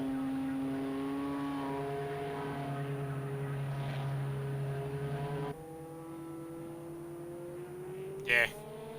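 Race car engines in a Le Mans 24 Hours video game race drone with sustained tonal whines that shift in pitch, passing steadily, with a brief sharp rising burst near the end.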